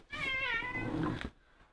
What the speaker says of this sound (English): Sorry, I got a little kitty going on down here.